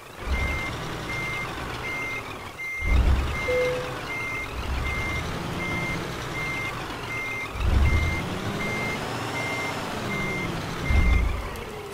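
In Euro Truck Simulator 2, a truck backs up as its reversing alarm repeats evenly spaced beeps over a low engine rumble, with occasional deeper thumps.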